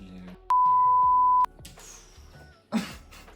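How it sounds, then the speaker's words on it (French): A loud, steady electronic censor beep covers speech in a French-language vlog. It holds one flat pitch for about a second, then cuts off, with quieter background sounds before and after. "C'est beaucoup de bip hein, dans cette vidéo."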